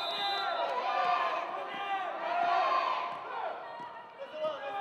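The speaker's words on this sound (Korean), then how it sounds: "응원의 함성 소리가 들리고 있는데요" Chosun University supporters chant and shout in a sustained, rising roar during a 2017 university league volleyball match against Sungkyunkwan University, with sharp ball and court thumps scattered through the crowd noise.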